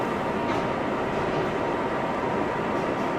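Ride aboard a New York City subway 7 express train heading toward Main Street: a steady, loud rumble and roar of the moving car with a rushing wash of noise and no talking.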